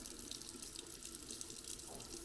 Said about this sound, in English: we're just going to take the water right through, and that expands the casings.